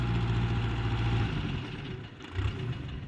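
A Massey Ferguson MF 504 tractor with a four-cylinder engine idles with a steady low diesel throb, quietly heard up close, its pitch dipping briefly and rising again partway through.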